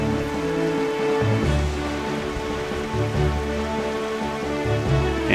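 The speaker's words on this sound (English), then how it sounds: "And it's raining." Rain falls steadily in The Legend of Zelda: The Wind Waker, a loud continuous patter of drops on surfaces with a low rumbling bed beneath, no voices.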